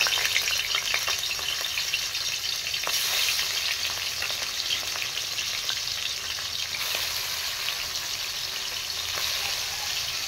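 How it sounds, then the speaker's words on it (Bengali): Hilsa fish pieces frying in hot oil, a dense, steady crackling sizzle that stays loud and close throughout, with scattered sharper pops. "তেল গরম হয়ে গেছে, আমি এখন ইলিশ মাছগুলো ছেড়ে দিচ্ছি।"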